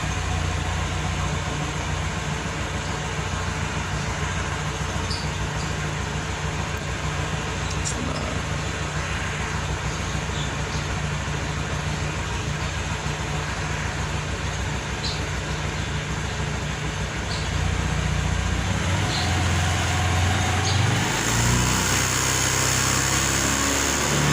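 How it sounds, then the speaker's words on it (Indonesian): A Honda Beat injection scooter with a cold-engine sputtering fault runs with a steady, dense engine drone, close and loud throughout, shifting in tone near the end. "Coba kita gas ya teman-teman."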